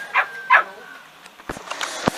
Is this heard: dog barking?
yes